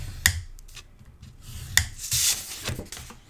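Paper for a snowy-day mini album being scored at half-inch marks, with several sharp scrapes and rubbing strokes of a tool along the score line, close and fairly quiet, in uneven short bursts with no talk.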